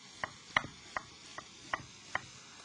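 A kitchen knife slicing through a vegetable towards the root, six crisp evenly spaced cuts against a board, close and quiet with no talk.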